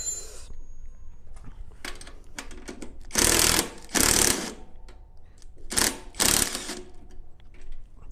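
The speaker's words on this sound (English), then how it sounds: "Now since I have the impact wrench, I'll be using that." An impact wrench loosens the shock absorber bolts on a Royal Enfield Classic 350 in a few short, loud rattling bursts separated by quiet pauses.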